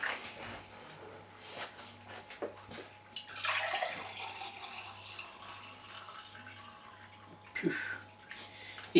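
Water pours steadily into a wine kit fermenter, a close gushing splash that swells partway through, with a low background hum and occasional clinks.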